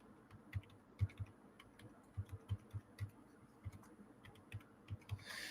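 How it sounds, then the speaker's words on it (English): Keys tapped on a computer keyboard, a quiet irregular run of soft clicks and thuds with brief pauses, close to the microphone and with no voices. "Let me get to the keyboard here."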